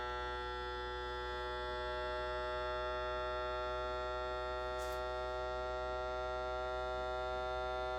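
Vacuum sealer drawing air from a jar of freeze-dried cranberries, a steady quiet electric hum and whine that holds an even pitch throughout, alone with no talk.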